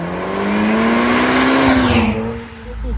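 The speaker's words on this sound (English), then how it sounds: "The exhaust is crazy loud" Loud, tuned Audi S3 8P (stage 3, about 460 bhp, methanol injection) with an aggressive exhaust, droning steadily under acceleration for about two seconds, then dipping briefly before building again, heard from inside the car.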